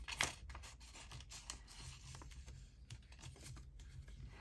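Repeated scissor snips while decorating bags for a Christmas journal, a close, fairly quiet run of short crisp cuts and light paper rustles spread evenly across the stretch.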